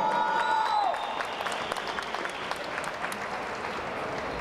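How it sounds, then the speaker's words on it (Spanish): Dense, sustained applause from a large crowd at a Central American Games weightlifting event, steady and continuous, with a brief high tone at the very start. "¡Fuerte el aplauso!"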